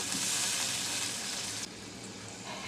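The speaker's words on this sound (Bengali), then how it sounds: "অল্প করে পানি দিয়ে দিচ্ছি" Aubergine cooking in a pan for a fish curry hisses loudly as a little water hits the hot oil, a broad steady sizzle that drops abruptly partway through and continues more softly, with no talk.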